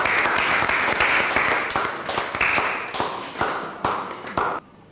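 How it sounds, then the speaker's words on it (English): An audience in a school hall claps together for about four and a half seconds in a dense burst of hand claps that thins into a few separate louder claps before it stops abruptly. "Shall we clap for them as they take their seat?"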